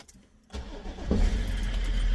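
A BMW 5 Series E60 that previously would not start cranks briefly and fires up, rising into a loud, close engine roar that holds steady as it settles toward idle.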